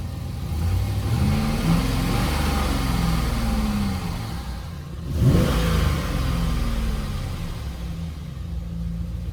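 A Dodge Challenger Scat Pack 392 R/T widebody engine revs loud and close, a deep steady rumble with one sharp throttle blip swelling midway before settling back.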